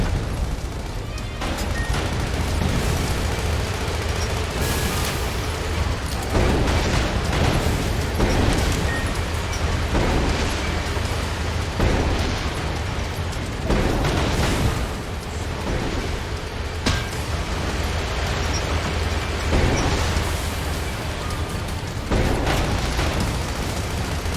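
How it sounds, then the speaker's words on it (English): Main battery cannons fire in the video game Sand Land, a sustained barrage of loud, booming shots and explosions that repeat every few seconds over a heavy rumbling background. "Prepare the main battery! Fire!"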